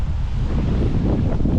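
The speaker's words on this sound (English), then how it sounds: "Well, if you can hear me above this wind" Strong wind buffets the microphone steadily outdoors beside a flooded, submerged playing field, a continuous loud low rumble filling the whole moment with no voices.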